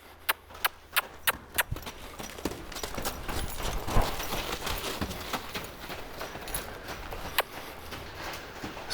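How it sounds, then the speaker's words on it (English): A five-year-old Mustang mare lopes in rhythmic hoof clip-clops, crisp and evenly spaced at first, then softening and blurring under steady background noise. "I want her to get into that lope again"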